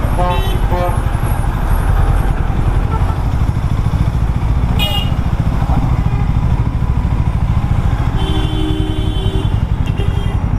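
A Harley-Davidson X440 motorcycle engine on a test ride, with a loud, constant close-up engine roar and wind rush throughout and short horn-like tones near the start and end.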